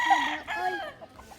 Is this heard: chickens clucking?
yes